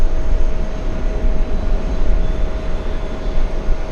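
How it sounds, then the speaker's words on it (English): A Lufthansa Airbus A380 takes off at JFK airport, heard as a loud, broad, steady engine roar with a deep rumble and a faint constant whine above it, sustained throughout. "we do have an Airbus A380 getting pretty close for takeoff"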